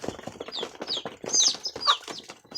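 Fighting chickens on a rural farm give off a string of short, close clucks and squawks, some bursts sharp and high, with a possible flutter of wings between them.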